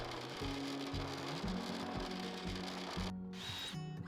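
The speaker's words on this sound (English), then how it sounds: "pre-drilling all of them with the Forstner bit." A power drill with a Forstner bit bores into wood, a low whirring hum broken by repeated short pauses, fairly quiet and close.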